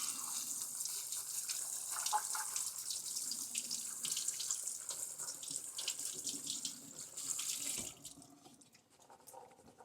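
Canned black beans rinsed under a running kitchen tap, a steady splashing stream into a sink that cuts off near the end, leaving a few drips.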